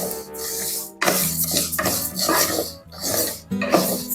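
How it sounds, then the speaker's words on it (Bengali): Mung dal is dry-fried over a medium-low flame and stirred in a pan, with repeated scraping strokes of a spatula against metal in uneven bursts, close and fairly loud. "এরকম মিডিয়াম টু লো ফ্লেমে রেখে মুগ ডালটাকে আমাদের ভেজে নিতে হবে।"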